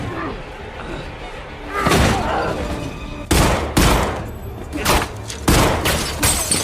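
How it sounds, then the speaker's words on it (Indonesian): Gunfire crackles through a shootout in the action film Death Wish, with a sharp burst of loud shots and impacts over a rumbling soundtrack, the shots growing denser toward the end. "Terjadi tembak-tembakan di mana si pelaku akhirnya kalah karena kehabisan peluru."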